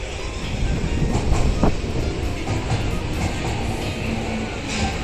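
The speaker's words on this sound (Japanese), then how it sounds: "丸の内線の電車が来ました。" A Tokyo Marunouchi Line subway train rumbles and clatters into the platform nearby, a steady loud mechanical roar with rhythmic clicks and a faint squeal, no voices.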